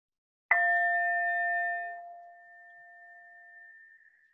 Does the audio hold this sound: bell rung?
yes